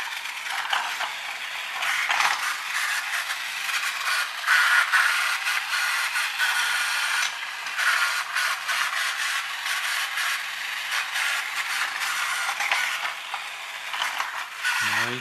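A 1977 TOMY Big Big Loader toy train set runs with a loud, continuous ratcheting clatter of small plastic gears and mechanisms, steady throughout with slight rises and dips, no talking.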